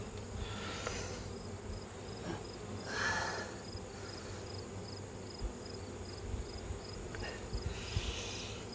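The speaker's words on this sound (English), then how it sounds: "And there's plenty of bees in there, as you can see." Honeybees buzz in a steady, soft drone around an open hive, a continuous low hum with a few louder passes of insects flying near, faint and without speech.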